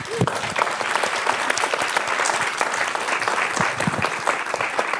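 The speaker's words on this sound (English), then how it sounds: "Thank you as well to all the participants online and to our amazing panel. A round of applause." An audience at a women's leadership event on transboundary water cooperation gives a panel a hearty round of applause, close and full, steady clapping throughout.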